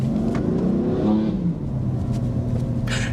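BMW M4 engine revving up and easing off in a short burst, a close, throaty growl with a rising then falling note over steady road rumble.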